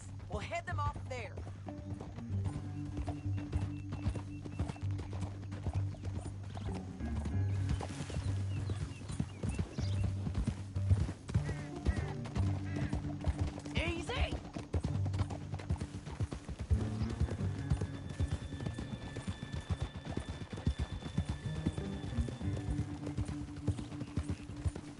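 Steady horse hooves clip-clopping in the video game Red Dead Redemption 2 through most of the stretch, with voices talking over them and a musical score underneath.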